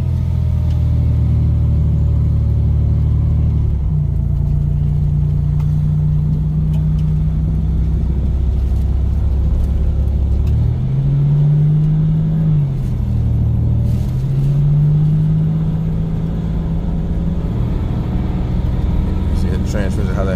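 A Buick Grand National's engine runs steadily with a deep, loud rumble that drops briefly as the transmission holds a gear, then settles back, while someone talks over it.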